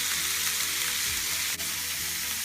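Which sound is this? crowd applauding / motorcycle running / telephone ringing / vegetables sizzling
vegetables sizzling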